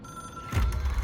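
A telephone rings in the video game Control, a single ring rising from a quiet room tone about halfway through, fairly close and clear with a low rumble beneath it.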